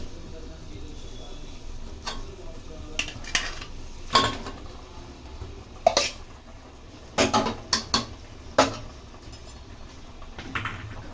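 Fish pieces coated in masala are tossed in a metal pan rather than stirred, giving a series of sharp clanks and scraping knocks at irregular intervals, close and fairly loud, with a faint sizzle beneath.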